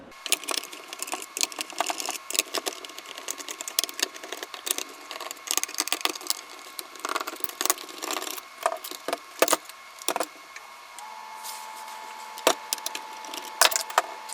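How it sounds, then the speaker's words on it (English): Small screws being removed from a Futaba 4PL radio transmitter, giving dense, close clicking, scraping and rattling of tools and plastic parts in irregular bursts throughout, with no talking. "I'm going to go ahead and take the rest of the screws out now"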